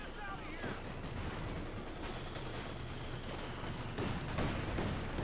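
Continuous light machine gun fire in a wartime strategy game, a dense, distant-sounding rattle of overlapping bursts with louder spikes, running under steady commentary from a voice.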